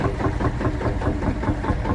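A Field Marshall tractor engine runs steadily at a steam rally, a loud, close, low thumping idle with an even pulsing rhythm and no talk over it.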